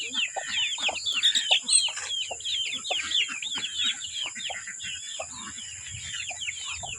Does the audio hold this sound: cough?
no